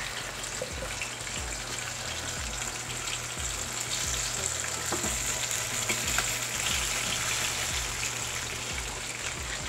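Halved potatoes frying in oil for kacchi biryani, a steady crackling sizzle throughout over a low rhythmic hum, close and without talk.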